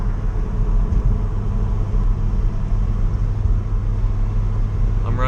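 A BMW E90 328i with a welded differential on a test drive, a steady loud cabin drone of engine and road rumble, continuous throughout, with a faint squeak near the end.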